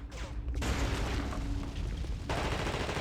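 Bursts of gunfire in The Thing video game, a loud, sustained rattle of shots with booming impacts and a brief pause, over faint game background.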